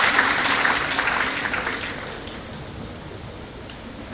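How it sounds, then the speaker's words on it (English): Audience clapping for a guest of honor at an India Japan festival event, a full wash of applause at the start that gradually thins and fades toward the end. "Once again, big round of applause for our guest of honor."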